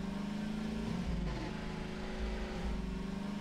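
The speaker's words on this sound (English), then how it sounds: "I always hated the Half-Life 2 car sound." Game engine drone of a Half-Life 2 car in Hunt Down the Freeman, a steady, harmonic motor hum with a brief pitch shift, continuous and fairly loud without speech.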